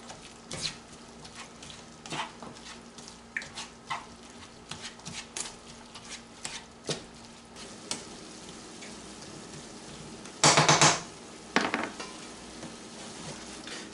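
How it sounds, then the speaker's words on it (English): A spoon stirs and breaks up ground meat frying in a pot, giving soft steady sizzling with scattered scraping clicks and taps, plus a brief louder clatter near the end; no talking. "Continue to stir this and, like I said, break the meat up as often as possible"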